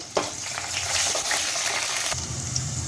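Green chillies and sliced onions sizzle in hot tempered oil, a steady close frying hiss with a few stirring scrapes and no talk.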